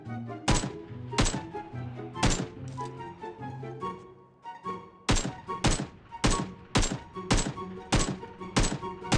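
Gunfire in Peacekeeper Elite, a series of sharp, punchy shots fired singly and in quick pairs with short gaps, about fifteen cracks in all, close and crisp over a faint background hum.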